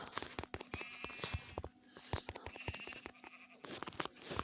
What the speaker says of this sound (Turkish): Koyun gel buraya.